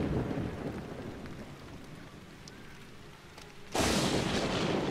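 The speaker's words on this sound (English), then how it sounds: "It's a rainy day." Rain pours steadily on a rainy, windy day, fairly loud and hissing, and then swells abruptly into a louder rush near the end, with no voices.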